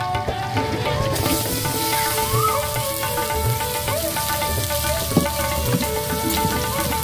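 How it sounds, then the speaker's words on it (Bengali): Chopped onion frying in hot oil with melted butter and garam masala, a steady dense sizzle and crackle close up, with occasional clinks and scrapes of a spoon in the pan. "কুচানো পেঁয়াজ আমি ভালো করে ভেজে নেব।"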